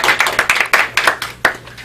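A library audience claps in welcome for a lecturer on home herbal remedies, a small group's applause with distinct irregular hand claps, close and fairly loud, no talking over it.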